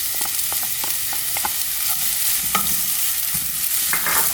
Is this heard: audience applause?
no